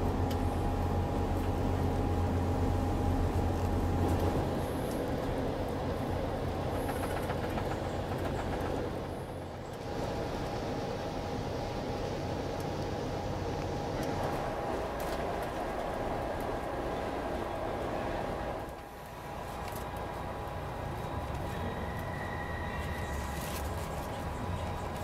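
Riding aboard an Amtrak Pacific Surfliner passenger train heading toward San Diego, a steady loud rumble and rolling rail noise fill the cabin, with a low hum throughout and two brief dips in level.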